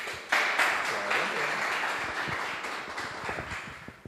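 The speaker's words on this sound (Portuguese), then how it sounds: "Você pode aplaudir Jesus por isso?" Church congregation applauding during an Easter sermon, a moderate, fairly distant wash of clapping that swells quickly and then thins out over several seconds.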